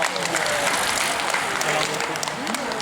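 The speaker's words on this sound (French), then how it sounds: "on peut les saluer par des applaudissements" Spectators at a cycling race applaud riders finishing their sprints, a dense spread of clapping mixed with crowd noise and an announcer's voice running over it the whole time.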